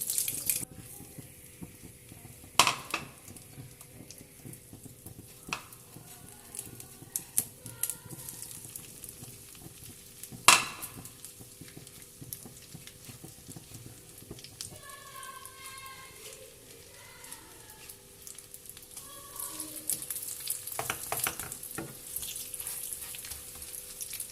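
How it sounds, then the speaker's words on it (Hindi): Chicken tikka kebabs frying in a pan give a faint, steady crackling sizzle, with a few sharp clicks of utensils against the pan and a slightly busier stretch of spattering near the end. "अब ये दूसरे डाले हैं और इनको भी इतना ही 3 से 4 मिनट हम फ्राई कर लेंगे।"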